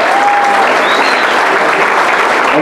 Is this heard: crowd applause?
yes